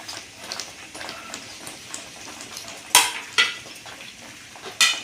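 A spoon stirs jackfruit halwa with roasted grated coconut in a pan, a soft scraping and low sizzle broken by a few sharp metallic clinks of spoon against pan.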